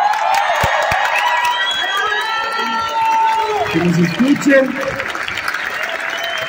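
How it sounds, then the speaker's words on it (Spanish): Audience applause and cheering at a large company event, mixed with shouting voices and a person speaking over the crowd; the clapping is moderately loud and continuous, with whoops rising and falling. "les pido por favor que me acompañen con un aplauso muy grande"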